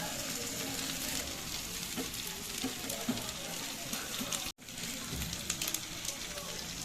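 Raw tomato charchari with fried shrimp sizzles and crackles steadily in a frying pan as it is stirred, a dense, close, continuous hiss broken by one brief gap.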